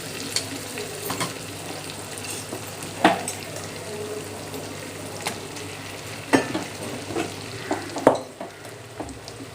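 Food stirred and fried in a kadai for a tomato rice dish, with a continuous low sizzle and repeated scraping spatula strokes at irregular intervals, fairly close and moderate in level.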